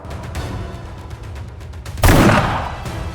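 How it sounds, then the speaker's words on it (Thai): A cap-lock muzzleloader fires once in a jungle in a horror audio drama, a sudden loud blast after a quiet stretch, followed by a long decaying echo. "เสียงปืนแก๊ป ดังสนั่นหวั่นไหวไปทั้งป่าดงดิบ"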